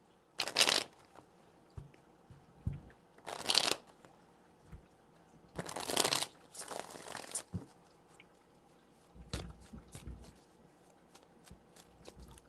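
Tarot cards are riffled and shuffled in several short, crisp bursts separated by pauses, quiet and close, with soft handling noises between.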